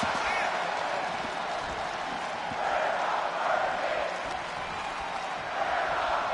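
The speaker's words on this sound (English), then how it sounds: "this capacity crowd sounded off, showing their appreciation for this action going on" A capacity crowd at a pro wrestling match keeps up a dense, roaring wall of cheering and noise, with a commentator's voice over it throughout.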